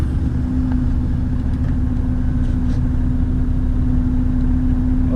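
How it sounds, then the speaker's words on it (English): A truck-and-trailer's large engine idles, heard through a slightly open cab window as a steady, loud, continuous low rumble with an even hum throughout and no talking. "I'm gonna have the window a little bit open so you can hear the nice monster of an engine this truck"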